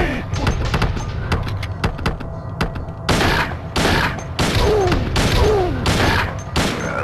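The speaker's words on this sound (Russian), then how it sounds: "когда я стреляю в него" Gunshots in Silent Hill New Edition inside an old hotel, a string of loud blasts spaced about a second apart with dull thuds between, a voice speaking over parts of it.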